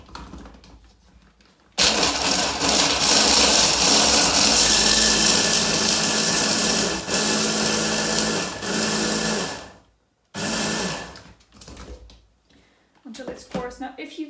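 A food processor blitzes dry ingredients for lemon energy bites with a pinch of salt in one long loud whirring run, then a shorter burst, and a voice follows faintly at the end.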